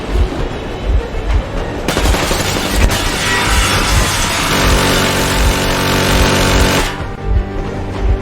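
Warning gunfire erupts in the Metro Exodus video game, a few sharp shots followed by a sustained burst of rapid fire lasting several seconds, loud and close, over a running engine rumble.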